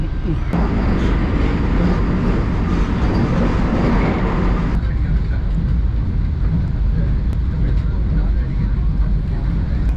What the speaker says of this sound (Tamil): இப்போ ட்ரெயின் வந்து பொன்மலை ஸ்டேஷனை கடந்து போயிட்டுருக்கு